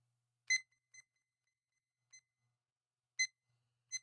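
A digital timer gives short, high, thin electronic beeps, single and in quick pairs, scattered irregularly through near silence, faint and close.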